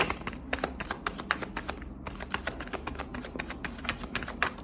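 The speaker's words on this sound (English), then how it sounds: "Of course, I am shuffling in the reverse." Tarot cards are shuffled rapidly and repeatedly close by, a steady stream of crisp riffling snaps with a brief pause partway through.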